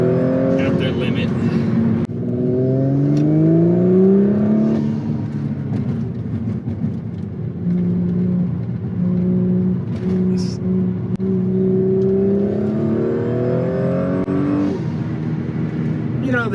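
An Audi S4 on 034 wheels driven hard in sport mode with limited traction control and understeering, its engine droning and rising through gear changes as someone talks over it from inside the car.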